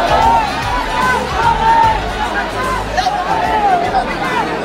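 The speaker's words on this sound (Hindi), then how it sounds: "यहाँ पर भीड़ लगी हुई है इतनी।" A large crowd packed together to see Chandrashekhar Azad of the Bhim Army at a gathering in Mathura, a steady loud hubbub of many voices with scattered shouts and chatter throughout.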